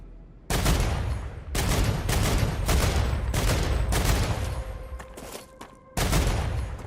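Loud, close bursts of automatic fire from the player's gun in the video game Star Rupture, several sustained volleys separated by brief pauses, with a sharp resumption near the end.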